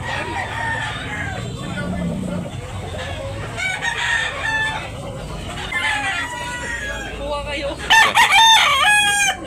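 Roosters crow and hens cluck amid the bustle of a busy live poultry market in Tabunok, Talisay, Cebu, with a loud crow near the end and people talking throughout.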